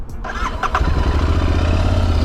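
A Royal Enfield Interceptor 650 BS6 twin-cylinder motorcycle cranks and fires up, then settles into a loud, steady, throbbing idle through its twin exhausts, close and alone.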